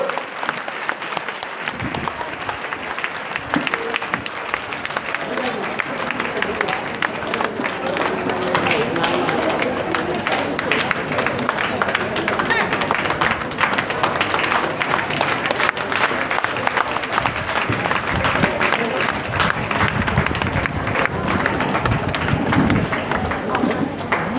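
Crowd applause at a political victory rally, loud sustained clapping from many people that swells after a quieter opening and continues steadily, with voices mixed underneath.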